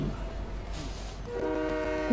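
A train horn sounding in a video game train station, a steady tonal blast rising over continuous rumbling rail ambience in the second half.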